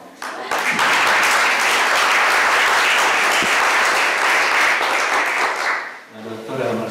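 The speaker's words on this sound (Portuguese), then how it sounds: "quisiera agradecer a la comisión organizadora, a Valentina Airolo, por quien pido un aplauso" Applause from an academic meeting audience, a dense steady burst of many hands clapping for about six seconds before fading out, with a voice starting to speak at the end.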